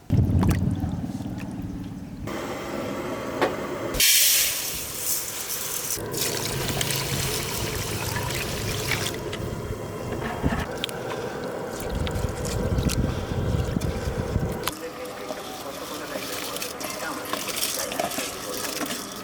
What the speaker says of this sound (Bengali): প্রথমে আমরা মাংসগুলোকে ভালোভাবে জলেতে পরিষ্কার জলে ভালো করে ধুয়ে নেব।